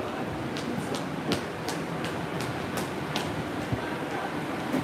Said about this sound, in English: Above us are the train, the rails for the Denintoshi line.